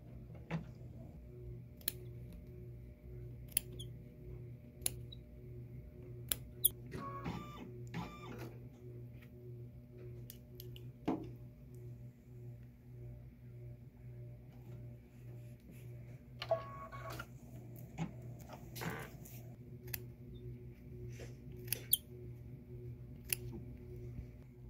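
Embroidery machine stitching a tack-down line on fabric, a quiet steady hum with soft ticking needle strokes and occasional sharper clicks, heard alone without talk.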